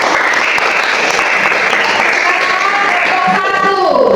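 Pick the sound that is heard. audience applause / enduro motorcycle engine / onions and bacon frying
audience applause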